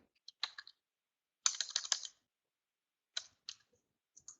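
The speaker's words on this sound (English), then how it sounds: "Oops, let me type that in correctly" Quick bursts of typing on a computer keyboard, entering a stock name into the Umstel trading platform, with soft clustered key clicks separated by short pauses in a quiet room.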